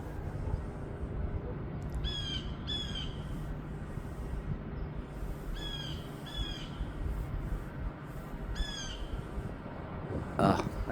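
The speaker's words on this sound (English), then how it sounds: "I hear that bird. That bird goes all the time." Harsh bird calls repeat outdoors in short bursts of two or three, moderately distant, over a steady backdrop of ambient noise.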